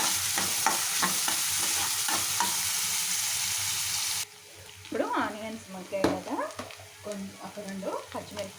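Thinly sliced onions sautéing in a pan alongside cumin and cinnamon for a mushroom curry: a steady loud sizzle for the first half, then quieter frying with stirring and utensil clatter, under occasional speech.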